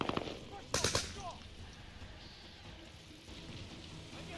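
Sniper rifle gunfire in a video game: a couple of sharp close shots early on, followed by quieter rumbling ambience and distant background noise.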